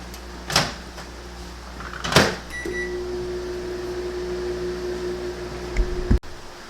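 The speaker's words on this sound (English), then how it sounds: "throw them in the microwave for about, like I said, a minute at a time" A microwave oven hums steadily for a few seconds, with a couple of soft clunks before it and a short beep partway through.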